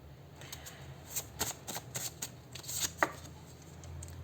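Tarot cards being shuffled for a reading, a series of close, crisp riffling bursts and soft slaps of cards, uneven in rhythm, with one sharper snap near the end.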